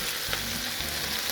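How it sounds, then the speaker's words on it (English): Beans hiss and crackle as they fry in oil in a pan, a brief, loud, close sizzle that stays steady with no voices. "So just put the beans in."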